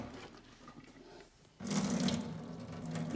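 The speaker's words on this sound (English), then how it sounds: "just drain it thoroughly of all the hot water" Hot water from boiled al dente pasta pours out into a sink as the pot is drained, a steady rushing splash that starts abruptly after a quieter opening and holds on loudly without talk.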